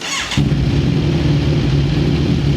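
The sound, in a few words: Kawasaki Z1000 R inline-4 1000cc engine revving with new GL exhaust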